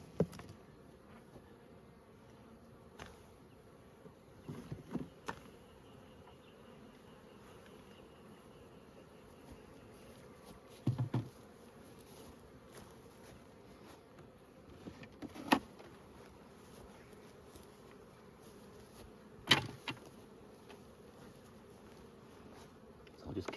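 Honeybees hum steadily around open ten-frame hive boxes while splits are checked and supers added, a faint continuous buzzing close by, broken by a few knocks and bumps of equipment.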